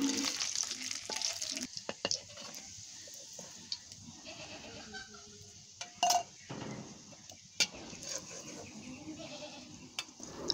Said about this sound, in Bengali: সে আলুগুলা এখন তেলে ভাজবো